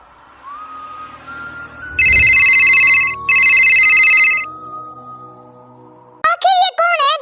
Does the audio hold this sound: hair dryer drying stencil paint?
no